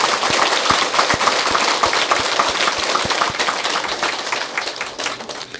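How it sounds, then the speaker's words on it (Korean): Audience at a Buddhist lecture on the Avatamsaka Sutra clapping together, steady dense applause with sharp individual claps, loud and close, fading slightly at the end. "박수 한번 쳐드리고"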